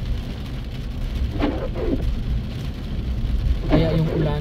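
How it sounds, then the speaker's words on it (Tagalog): Steady rainfall hisses in the background throughout while a person talks over it in short bursts, the downpour constant and moderately loud. "Ayan, malakas yung ulanes."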